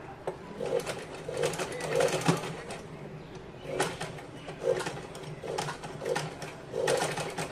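A sewing machine stitching a cotton baby frock, running in repeated short bursts of rapid whirring stitches with brief pauses between them, close and fairly quiet.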